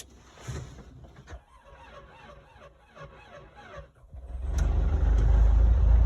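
After a few quiet knocks and clicks, a car engine turns over and starts at minus ten degrees without being plugged in, then settles into a loud, steady running rumble nearby.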